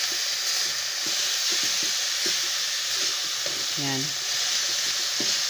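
Ground meat and vegetables sizzling loudly in a pan as a spatula stirs them, with repeated scraping taps over the constant hiss and a brief spoken word in the middle.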